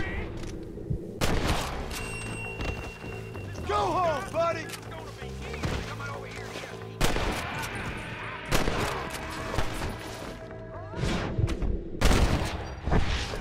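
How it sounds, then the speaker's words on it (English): Gunshots in the Red Dead Redemption western video game, repeated loud sharp cracks spread across the clip amid a shootout at a hideout, with someone shouting over the gunfire and game music. "Stop shooting at me!"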